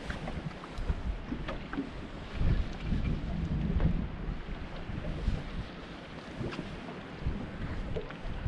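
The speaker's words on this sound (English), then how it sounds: "the wind's picking up, so the anchors are probably going to move us" Wind picking up on open water around an anchored fishing boat, a steady rushing roar with gusty buffeting and occasional knocks against the hull.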